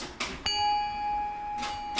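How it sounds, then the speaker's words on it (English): A bell lead part in an electronic music track, struck notes ringing out with a long sustained shimmering tone between softer hits, clear and upfront with no voices. "So the other key lead piece here is the bells."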